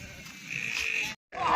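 A single sheep bleats in a drawn-out, wavering call close by, then after a brief gap a second shorter bleat follows.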